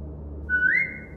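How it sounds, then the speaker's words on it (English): A person whistles a single rising note to a dog, one short clear tone alone over a low background hum. "Now whistle and tell her to lie down."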